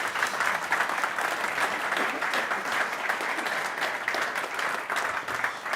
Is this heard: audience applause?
yes